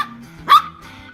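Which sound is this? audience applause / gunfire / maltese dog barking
maltese dog barking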